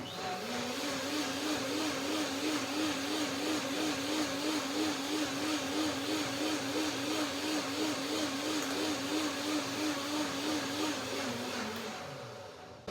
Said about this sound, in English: So that's quickly done. Blender dance.